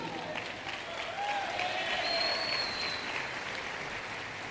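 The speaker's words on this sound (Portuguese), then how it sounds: "Dá um aplauso ao Senhor." A church congregation applauds during a sermon, sustained clapping that swells slightly in the middle, with a voice or tones drifting faintly above it.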